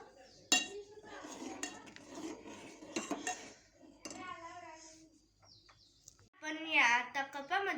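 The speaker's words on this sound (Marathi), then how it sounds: "आपण आता हिच्यात इलायची आणि अद्रक टाकणार आहोत आणि याला जर असं हलून घेणार आहोत" Tea brewing in a pot with cardamom and ginger is stirred, giving close metallic scrapes and clinks of a utensil against the pot in short bursts, with a voice talking between them.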